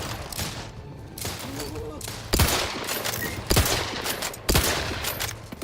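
Sniper gunfire in the shooter game The Outer Worlds 2, with three sharp, loud shots spaced about a second apart over a busy background of battle noise and scattered softer shots.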